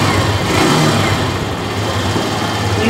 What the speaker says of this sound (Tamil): வண்டி வந்து ஸ்டார்ட் பண்ணி பார்க்கலாம்.